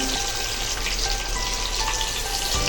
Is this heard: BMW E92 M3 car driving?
no